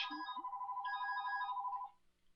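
A telephone rings with a steady electronic tone lasting nearly two seconds before cutting off, clear and fairly close, with no talking over it.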